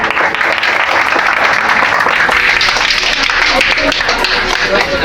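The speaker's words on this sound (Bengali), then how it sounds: "একটি করতালির মাধ্যমে তাদের শুভেচ্ছা" Sustained, loud applause fills a school debate competition hall at Utopia School and College as the audience claps for the judges, a dense, steady roar of many hands lasting throughout.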